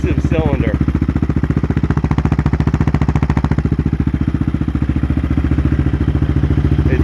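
A Yamaha Raptor 660R ATV's big single-cylinder engine idles close by with a loud, steady rapid thumping pulse and a slight stumble, and no voices over it.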